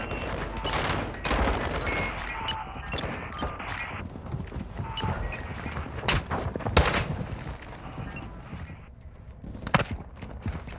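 Light machine gun fire in a first-person shooter hostage rescue inside Building 21, bursts of sharp gunshots scattered across the stretch, some rapid and close, others isolated and louder near the end.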